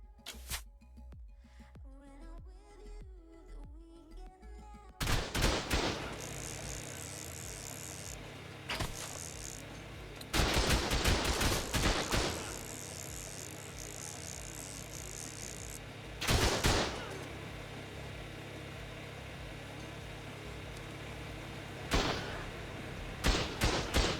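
Auto turrets in the ARK survival game fire loud rapid bursts of gunfire at a base, several dense volleys separated by short pauses, with game sounds in between and no voices.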